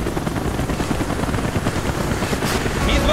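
A Mi-24 helicopter in the Call of Duty Black Ops video game roars as dense, steady rotor and engine noise throughout, loud and close, with battle din layered in and no clear speech.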